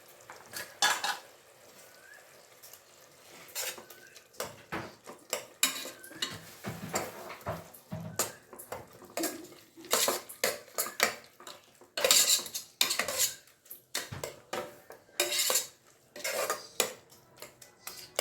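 Tomatoes with ginger garlic paste stirred in a pan for tomato bath: repeated metal spoon clinks and scrapes against the pan in irregular bursts, close by, over a faint low fry, with no talking.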